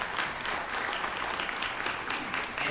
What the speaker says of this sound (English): can we all give ourselves an applause that we made it here today?